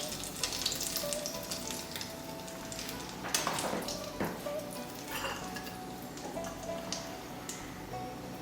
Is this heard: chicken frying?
yes